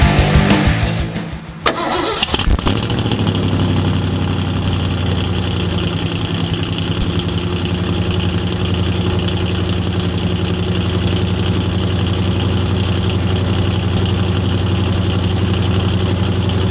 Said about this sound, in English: Sorry for just a short little cold start sound clip.